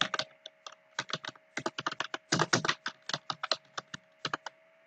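Fingers typing a code comment on a computer keyboard during a Python Pandas data science tutorial, a quick uneven run of soft, close key clicks with brief pauses and no voices.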